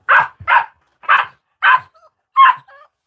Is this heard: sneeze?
no